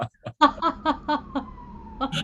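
A thin, faint siren wail drifts in the distance beneath people talking and laughing.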